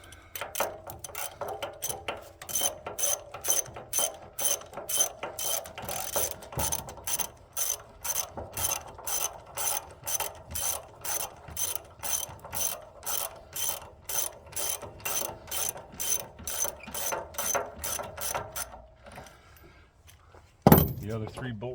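A ratchet wrench turns bolts on a Minneapolis tractor rear end, a steady run of close, sharp clicking strokes in even rhythm, followed by a brief louder knock at the end.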